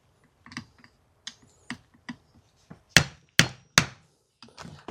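Sharp metallic clicks and knocks while prying C-clips off a Jeep Wrangler JK U-joint, irregular close taps building to three louder snaps, no talk.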